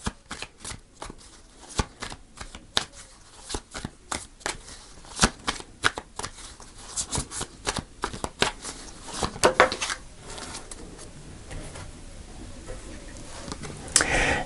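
Tarot cards being shuffled and pulled, a long run of crisp riffling and snapping bursts at close range with brief pauses, no voices over it.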